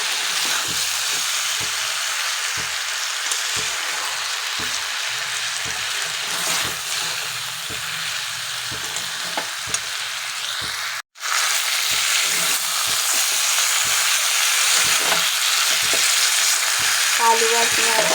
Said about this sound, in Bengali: আলু আর পেঁয়াজটা আমার মোটামুটি ভাজা হয়ে যাচ্ছে